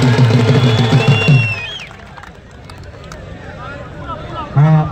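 Crowd noise rises around a kushti wrestling bout between pehlwans in Meerut, a broad rustling roar of the audience after a voice, with more voices calling out near the end.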